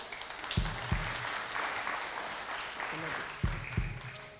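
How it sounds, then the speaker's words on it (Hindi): A studio audience at a televised Ramadan quiz show claps in moderate applause, with sharper individual claps and a voice speaking over it. "बहुत सारी तालियां बजाएं।"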